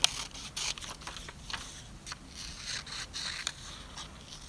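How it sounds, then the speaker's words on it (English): Scissors cutting a paper letter shape along drawn lines, with quiet repeated snips and crisp paper rustles in an irregular rhythm, close by and faint. "open, close with my scissors"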